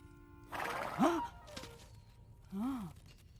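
A horse whinnies twice in a stable, each call a rising-then-falling neigh, the first around one second in and a second about a second and a half later, moderately close with faint background noise and no talk.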